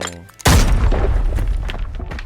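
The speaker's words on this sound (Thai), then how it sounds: "เพื่อนจะปาระเบิดไปก่อนนะ" A grenade blast in the tactical shooter Arena Breakout: after a quiet, tonal lead-in, one sudden loud boom hits, and its heavy rumble rolls on and decays slowly over the following two seconds. No speech is heard.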